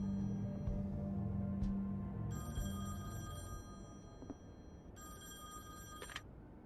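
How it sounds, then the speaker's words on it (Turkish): A telephone rings in the video game The Wolf Among Us, with two separate bursts of electronic ringing over a low, steady background hum. No one speaks. "telefon çalıyor"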